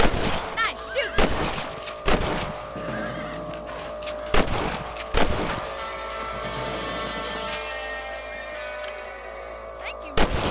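Rifle gunfire in the video game Red Dead Redemption while shooting rabbits on a farm: a string of loud, sharp shots at irregular intervals over a steady ambient bed, with a final shot near the end.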